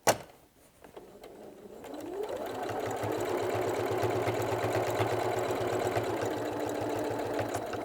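A sewing machine stitching straight across the opening of a fabric place mat: a steady, rapid mechanical whirr and needle chatter that builds after a soft clunk at the start, close and moderate, with no speech.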